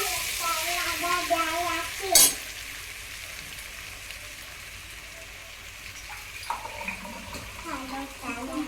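A little water goes into a pan of stuffed bitter gourd curry, with a sharp splash and hiss early on, then quieter simmering and a few spoon scrapes, with a voice speaking at the start and end.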